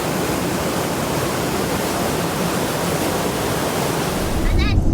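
Powerful rushing water roars continuously at close range from a torrent along Norway's Kystriksveien coastal road, a dense, loud wash of noise, with a brief voice and a gust of wind near the end.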